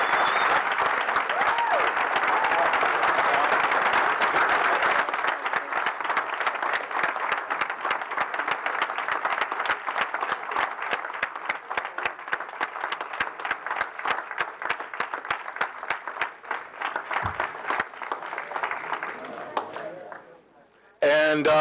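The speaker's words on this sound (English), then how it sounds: "Let's give a warm round of applause" Long, loud applause at a school board meeting for the Guilford High School Vikings, dense clapping that turns into a rapid, rhythmic beat before fading near the end.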